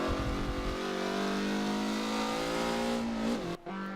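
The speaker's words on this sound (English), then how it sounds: "That's the supercharger winding up." A Mazda race car at Hockenheim drives under sustained engine load while its supercharger winds up in a steady rising whine. The sound is loud and continuous for several seconds, then drops out sharply near the end.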